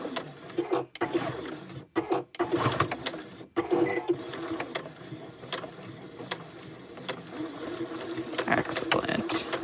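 A sewing machine stitching back and forth over a zipper on a bag, a steady close mechanical whir with rapid rhythmic ticking, interrupted by a few brief stops.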